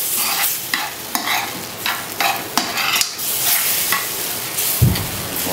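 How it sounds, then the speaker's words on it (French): Kidneys are stirred gently into a thick mustard sauce in a pan, with a steady sizzle and scraping spoon strokes in an irregular rhythm, close and fairly loud, and a thud near the end. "Là, on rajoute des rognons. Voilà, juste délicatement les enrobés de sauce."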